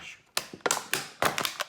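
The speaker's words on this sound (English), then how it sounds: "a utility knife and I'm going to cut a cross about 1 inch" A utility knife slicing a cross about an inch across during a power steering flush on a 1994 Mercedes C280 W202, heard as a few short, close taps and scrapes spaced unevenly.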